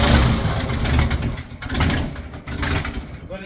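A 1965 Ford Mustang engine idles roughly up close, a loud uneven churning that surges and dips irregularly over a few seconds with no talk.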